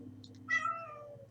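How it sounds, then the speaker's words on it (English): A house cat meows once, a short clear call rising then trailing off, close by over a low steady indoor hum. "That is my cat, Gabby."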